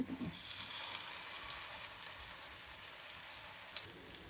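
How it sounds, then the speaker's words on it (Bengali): Egg pieces dropped into hot oil for an egg masala curry, giving a soft, continuous sizzle and crackle with one small pop near the end, heard alone without talking. "এবার আমি এগুলোকে তেলে ছেড়ে দেবো।"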